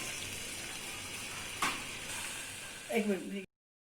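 Chicken sizzles in hot oil in a karahi, a steady frying hiss with a brief clatter midway and a short burst of stirring or scraping near the end before the sound cuts off.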